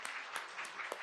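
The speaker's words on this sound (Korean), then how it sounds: "옆 사람에게 격려의 박수 한번." A church congregation at a year-end Sunday service claps in encouragement for one another, a quiet, brief patter of hands with a few sharper claps standing out.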